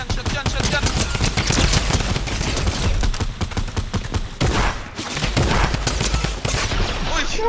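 Rapid, dense video game gunfire with shotgun blasts, loud and continuous, bursts running together almost without pause throughout.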